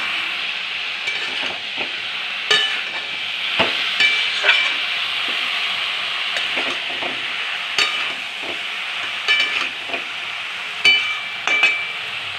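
Jackfruit stir-fried in a pan, a steady hiss of frying under repeated scraping and clinking strokes of a spatula, close and fairly loud.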